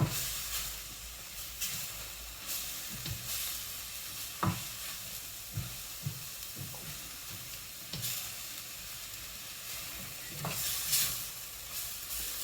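Bean sprouts stir-fry in a pan for a chicken and black bean stir fry, hissing steadily under repeated scraping and tossing strokes from a utensil, close and alone without speech.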